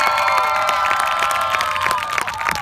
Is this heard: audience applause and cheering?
yes